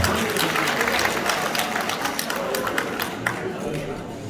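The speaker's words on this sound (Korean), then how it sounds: "박수 더 크게 치세요" A rally audience claps harder on request, a thick, busy patter of many hands carrying on for several seconds while voices and crowd chatter mix in and the clapping gradually thins.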